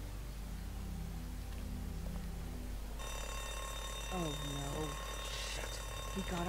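Alarm going off in The Walking Dead Telltale video game after a door is opened with keys: a steady electronic ringing tone starts abruptly partway through and continues loudly, with a voice speaking underneath.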